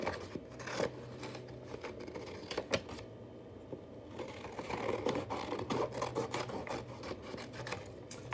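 Scissors snipping paper into puzzle pieces, giving close, quiet, irregular crisp cuts and rustles, with brief pauses between snips and faint background noise.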